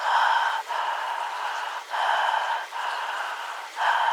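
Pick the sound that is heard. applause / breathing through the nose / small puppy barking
breathing through the nose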